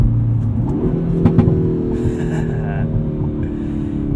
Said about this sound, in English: This is a proper throaty 4-cylinder turbo sound. You'll hear it once we get into the higher revs.